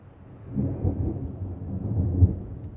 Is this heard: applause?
no